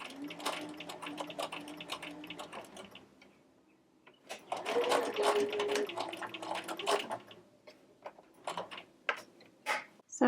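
A sewing machine stitches a seam on a Liberty Jane culotte jumpsuit, its needle chattering in rapid mechanical bursts with pauses between runs, close and fairly quiet with no talking.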